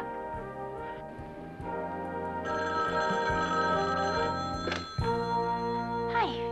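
A business telephone rings in repeated electronic bursts, clear and fairly close, with a few thuds and brief voices in between.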